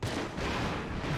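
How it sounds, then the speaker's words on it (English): Fireworks in the PS2 video game James Bond 007: Agent Under Fire, a brief, loud rumbling burst of booming crackles. "Fireworks sound fun."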